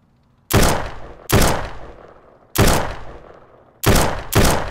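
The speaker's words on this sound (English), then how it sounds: "Where's the gunfire coming from," Five loud, sharp gunshots ring out at uneven intervals, each with a reverberant tail, in a VR video game firefight with no talking.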